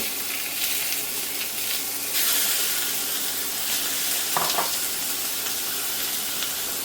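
Onion sautés in a pan, giving off a steady, fairly loud broadband sizzle that surges slightly partway through, with faint scraping from stirring and no talking.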